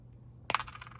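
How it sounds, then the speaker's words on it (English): Jewelry-making wire cutters snip the back off a small heart-shaped craft piece: one sharp, close metallic click with a brief rattling tail in an otherwise quiet room. "I've been just using these like wire cutters that I use for jewelry making"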